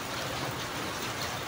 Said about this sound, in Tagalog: Ano, lakas ng ulan sa labas mga idol.